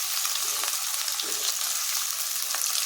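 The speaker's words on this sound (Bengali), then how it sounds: "পেঁয়াজটা একটু লাল লাল করে ভেজে নেব, তারপরে পটল এর মধ্যে দিয়ে দেব।" Onions fry in oil in a pan for a pointed gourd mash, a bright, hissing sizzle that stays steady throughout with a few soft stirring taps, close and without talk.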